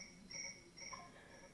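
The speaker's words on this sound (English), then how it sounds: "I got some crickets in the background" Crickets chirp steadily in the background of a doorway scene, a faint repeating trill in regular pulses with no talk over it.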